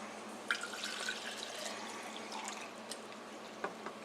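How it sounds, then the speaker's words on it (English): Water is poured into a 20-ounce cup to mix MRE lemonade, a soft, steady trickle with a few small splashes, faint and close. "so we're going to pour the water in it"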